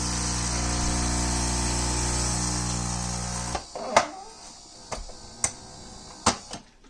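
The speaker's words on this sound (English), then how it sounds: "it's grinding. We don't have any beam, but at least the motor start running now" A Philips Saeco Moltio coffee machine's repaired grinder motor runs with a steady electric whir and no beans inside, then cuts off, leaving a few sharp clicks and knocks as parts are handled nearby.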